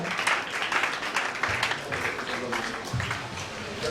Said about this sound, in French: Acclamons pour lui très fort pendant qu'il vient.